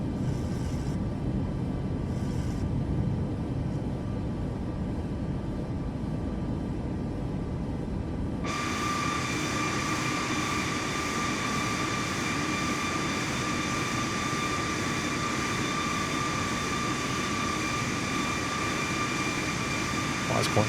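Simulated airplane taking off in Microsoft Flight Simulator 2024, a continuous loud engine roar with a steady whine that brightens abruptly partway through and then holds level, with a voice talking over it.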